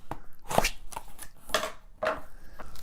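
Someone opening a taped-up parcel of books, with a handful of close crackling, tearing rips of tape and cardboard in irregular bursts.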